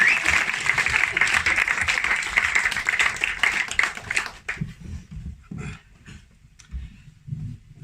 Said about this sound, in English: So a round of applause for my mum and dad.